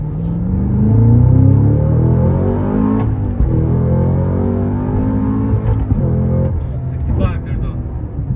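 A Cadillac CT5-V Blackwing with a 6-speed manual accelerates hard, its engine a deep, loud, rising rumble heard from inside the cabin while people talk over it.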